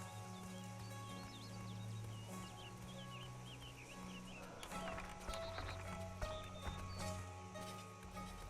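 A horse in the Sacred 2 video game whinnies and clip-clops along, hooves tapping steadily under a sustained musical drone, with some faint birdsong.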